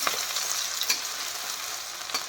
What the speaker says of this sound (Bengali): পেঁয়াজটা লাল লাল করে ভাজা হয়ে যায়